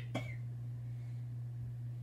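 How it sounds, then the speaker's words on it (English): One short, faint cough sounds over a steady low electrical hum, brief and isolated near the start. "I coughed."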